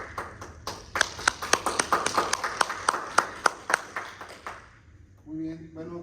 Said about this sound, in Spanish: démosle un fuerte aplauso por favor al doctor Jovan